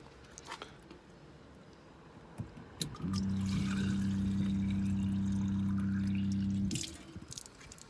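Water runs steadily from a tap for several seconds while a bottle is rinsed, a loud continuous gush that stops abruptly, with a few clinks and handling sounds before and after.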